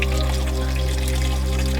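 Clean spring water gushes steadily out at the Mahabaleshwar hill station. The rushing flow is loud and close, with a constant low rumble beneath it and no voices.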